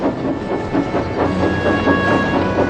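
A cartoon breakdown train rolls along with steady rhythmic clickety-clack and a soft steam hiss, fairly loud and continuous throughout, with no voices.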